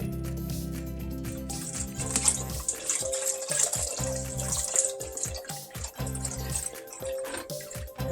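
Beef stock pours into a stew pot with a sloshing, gurgling liquid sound, splashes rising and falling in uneven bursts, close and fairly loud.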